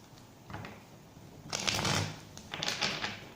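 Tarot cards being shuffled in several quick riffling bursts, close and crisp, with short pauses between them and no talking.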